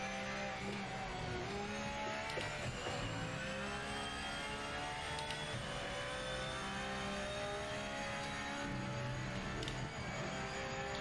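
Ford Mustang GT3 race car in a racing video game at São Paulo, engine droning and revving steadily through gear changes with other cars nearby, continuous and fairly loud with no talk.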